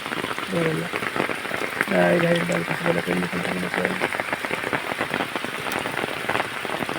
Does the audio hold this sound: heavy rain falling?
yes